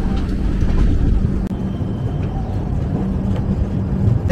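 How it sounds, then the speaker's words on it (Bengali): Train pulling out of Khurda Road junction, the Chennai Egmore express, a loud steady low rumble and rolling clatter heard from on board, with a brief knock midway. "ক্ষুদ্রা রোড থেকে ট্রেন জাস্ট ছাড়লো।"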